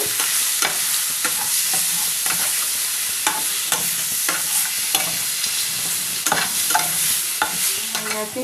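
Cumin powder and spices stirred and fried in a hot pan for a prawn dish, giving a steady close sizzle broken by repeated scraping strokes of the spoon throughout.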